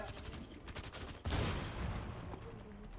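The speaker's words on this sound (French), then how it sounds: "c'est qui qui me tire dessus" Gunfire in Rainbow Six Siege: a quick rattle of shots, then a loud burst of fire with a sustained ringing aftermath, fairly close and heard alone.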